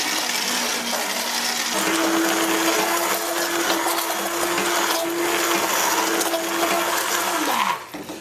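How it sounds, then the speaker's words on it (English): An immersion blender whirs steadily, loud and close, as it purees a fruity hot pepper sauce, its motor tone holding level and then dropping in pitch as it winds down near the end. "It will take a few minutes with the submersion blender."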